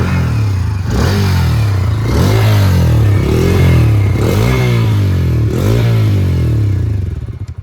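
Bajaj Freedom 125 CNG motorcycle engine running close by, blipped through a series of about five quick, rising throttle revs over a steady idle, then settling before cutting off.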